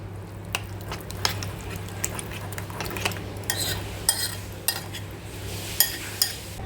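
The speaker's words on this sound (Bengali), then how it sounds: "টক দইটা ভালো করে একটু মিক্সড করে নিই" A spoon clinks and scrapes against a bowl in an irregular rhythm while yogurt for raita is stirred close by, with a low steady hum underneath.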